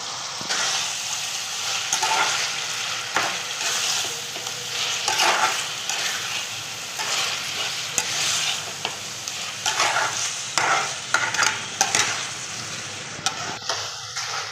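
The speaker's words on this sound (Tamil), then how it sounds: "இஞ்சி பூண்டு இப்போ நல்லா நம்ம வதக்கிட்டோம்." Ginger and garlic sauté in a pan, a continuous close sizzle with repeated scraping stir strokes and light clacks of a spatula against the metal.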